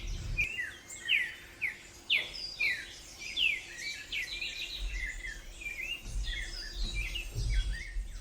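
Birds chirp and call around the feeders at San Felipe Lodge in Valle del Cauca, Colombia, with repeated bright, sweeping notes in short bursts over a quiet outdoor background and faint low rumbles.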